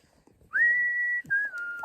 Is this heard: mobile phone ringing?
no